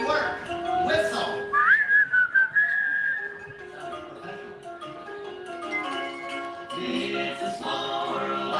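A group at Magic Kingdom, Disney World, whistles along to a Disney tune, bright melodic whistled notes over background music, with a sustained rising phrase early and several whistlers joining later.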